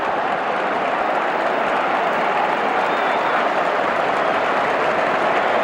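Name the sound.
football crowd applause at Anfield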